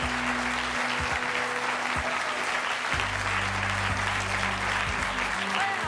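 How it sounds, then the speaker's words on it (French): Sustained studio audience applause on a TV set, steady thick clapping throughout with a low music bed and faint voices mixed underneath. "Il s'agit de Gisèle que je vous demande d'applaudir."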